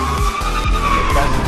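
A car in the Fortnite game drives and skids, with a loud engine roar and tire screeching over the short stretch.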